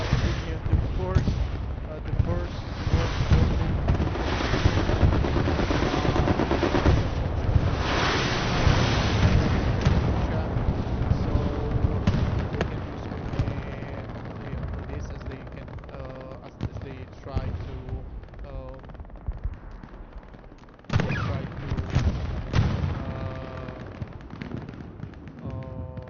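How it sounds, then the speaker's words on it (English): Katyusha rocket artillery in a tank video game fires a long barrage of rumbling booms and explosions, which fade and then return with a sharp blast, heard under steady commentary talk. "And we will see if the Katyusha actually hit something."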